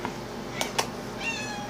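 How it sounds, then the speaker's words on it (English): Domestic cat meowing in an apartment kitchen, two short meows followed by a longer rising meow, faint and in the background over quiet room noise. "You can hear my cat meowing in the background here."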